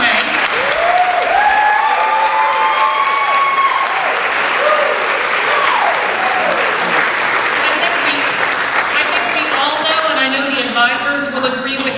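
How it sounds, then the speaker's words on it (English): Loud, sustained applause from a large audience fills the clip, with cheering voices and whoops rising over the steady clapping throughout. "Let's give them a round of applause as they make their way."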